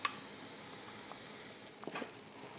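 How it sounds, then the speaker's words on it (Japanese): Soft, quiet sizzling of pork mince frying in a pan with sesame oil and garlic, with a few light stirring scrapes and pops near the end. "鍋にごま油とにんにくを加えて香りが出るまで炒めたら豚のひき肉を加えていきます"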